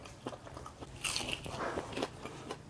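Crisp bites into a deep-fried marinated pork skewer, a few crunchy snaps and chewing, close and fairly quiet with no talk.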